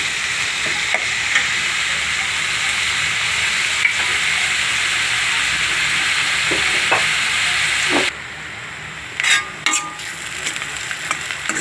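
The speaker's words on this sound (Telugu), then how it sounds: "కరివేపాకు వేసుకుందాం దోరగా వేయించుకోవాలండి గోల్డెన్ కలరు వచ్చిందాక బాగా వేయించుకోవాలి" Curry leaves and onions, with green chillies, fry until golden for a boondi cashew curry, giving a steady loud sizzle with occasional stirring scrapes; near the end the hiss drops away, leaving sparse clinks and stirs.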